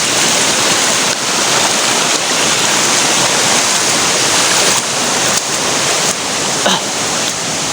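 Loud, steady rushing of a flooded river, broadband water roar continuous throughout with a few brief dips and bumps.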